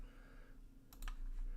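Someone types on a computer keyboard in a few quick, faint clicks over a low room hum, brief and close with no speech.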